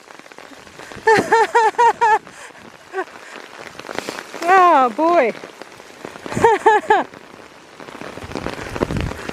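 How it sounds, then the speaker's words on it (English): Hail falls on an open bushwalking track in the rain, a broadband patter filling the whole clip while a person's exclamations and bird-like calls rise in short bursts over it. "That's hail!"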